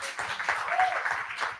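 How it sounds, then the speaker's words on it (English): Audience applause at a blockchain demo day event in Dubai, a short burst of many hands clapping in a dense patter that holds steady for under two seconds with faint voices mixed in. "Give a round of applause for CZ on the stage."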